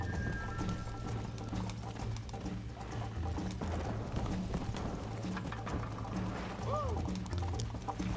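Horse hooves clip-clop at a steady trot in the Red Dead Redemption video game, with a brief whinny near the end, all under a continuous game soundtrack.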